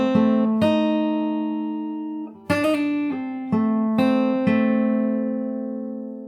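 A close fingerstyle acoustic guitar plays a short passage of a main theme, with about eight plucked notes and chords in an unhurried rhythm, each ringing and fading. No voices are heard.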